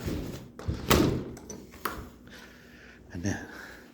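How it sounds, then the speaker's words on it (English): A house door swings shut with a solid thump, followed by a few lighter knocks and clicks of the latch, close and indoors. "Let me close the door here."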